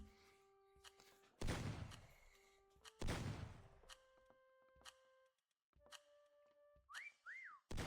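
A whistle in the Meccha Chameleon video game, heard near the end as two short rising-and-falling tonal chirps. They follow game sounds: sustained tones, clicks and two loud bursts of noise.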